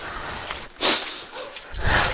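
A single dog bark rings out sharply in the middle, with quieter rustling and background noise before and after.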